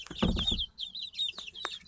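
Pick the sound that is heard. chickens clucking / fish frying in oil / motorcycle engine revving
chickens clucking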